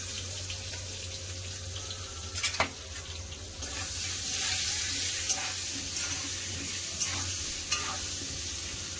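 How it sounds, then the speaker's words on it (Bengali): Potatoes with turmeric frying in a pan, a steady broad sizzle running the whole time with a few sharp clinks and scrapes over it, close and moderately loud, no voices. "এদিকে আলু ভাজা হচ্ছে"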